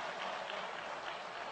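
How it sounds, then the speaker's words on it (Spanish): Applause in the Venezuelan National Assembly at an anniversary session, a dense, steady wash of clapping from a large crowd with no gaps, heard from within the hall. "Un aplauso a Lino Martínez."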